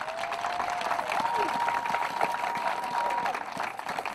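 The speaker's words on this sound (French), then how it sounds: "Je voudrais demander ici à tout le monde qui est là d'applaudir parce que le peuple a fait son travail." Audience applause at a Gabonese 2018 legislative and local election rally, steady dense clapping throughout with a voice rising over the crowd noise.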